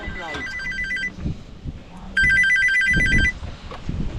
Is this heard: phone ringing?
yes